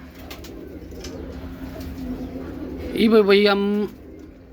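Kali Koyal pigeons give a short, loud, close burst of cooing near the end, heard after someone speaks briefly in Hindi over a quiet background.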